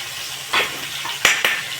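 Tomatoes frying in a hot pan, a close sizzling hiss with a few sharp scraping strokes of a spoon as they are stirred, brief and fairly loud, with no talking.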